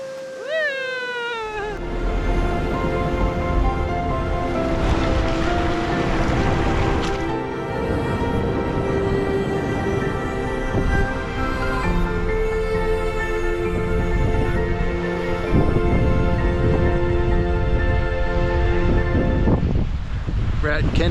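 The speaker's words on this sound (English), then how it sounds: "the waves are a little bit too big today" Ocean waves at a beach in Taiwan, rough and fairly big, giving a steady loud wash of surf and wind noise over the whole stretch, with a few faint tonal sounds near the start.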